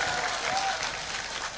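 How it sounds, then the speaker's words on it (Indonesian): An audience at an Islamic boarding school gathering gives a short burst of steady clapping, moderately close, with a faint voice briefly audible over it. "Tepuk tangan untuk Charlie."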